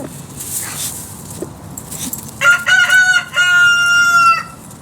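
A backyard garden flock of chickens being fed on a snowy day, with a loud nearby rooster crow and clucking, plus some soft rustling and faint dog-like whimpers earlier on.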